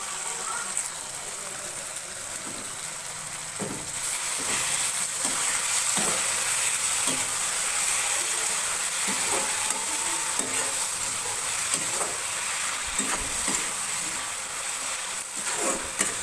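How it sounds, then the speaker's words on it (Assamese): Tomatoes fry in a pan with salt and turmeric for an Assamese fish curry, a steady close sizzle with regular soft scraping knocks of stirring, growing louder partway through and continuing without voices. "বিলাহীখিনি ভজা হৈ গৈছে"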